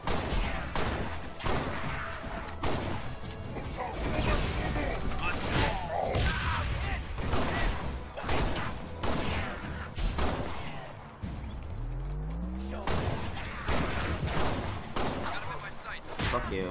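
Rapid gunfire and explosions in the Halo Spartan Assault video game, dense repeated bursts of shots running continuously with thuds and mechanical game effects, loud and up close, with a voice talking over parts of it.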